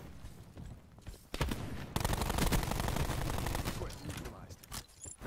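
Minigun fire in Black Ops 4 Safeguard mode, a loud continuous roaring stream of rapid shots starting after a couple of seconds of scattered gunfire and running several seconds, with voices under it.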